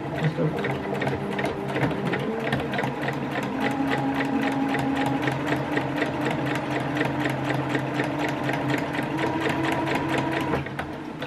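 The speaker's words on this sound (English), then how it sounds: "on the first back piece I have stitched the casing lines along" A sewing machine runs steadily and loud for about eleven seconds, stitching straight casing lines on the back piece of a party-season top, with a fast, even needle rhythm and no talking.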